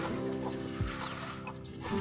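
Chickens on a rooftop farm cluck softly close by over a steady background hum, with a brief low bump midway.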